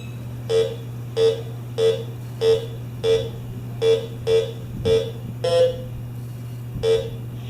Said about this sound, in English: so I get a double beep